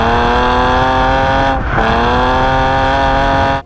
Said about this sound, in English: This is my BMW E46 drift car. It proudly wears its battle scars because it can do really cool things like this